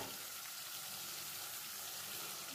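Water being poured into a pan of frying spices for a tyangra fish curry, a steady hissing, bubbling wash that stays even and moderately close for a couple of seconds.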